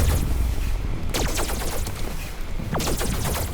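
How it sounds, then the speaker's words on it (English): Twin laser pistols fire in a survivors-like drone video game, a dense stream of sharp zapping shots over constant battle noise, with a few louder bursts standing out. "she has like twin laser pistols"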